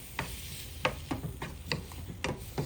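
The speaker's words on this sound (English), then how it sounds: "Just going to mix that around." Chicken pieces are mixed by hand with adobo seasoning for baked chicken, giving about seven soft, irregular scrapes and clicks close by, with no talking.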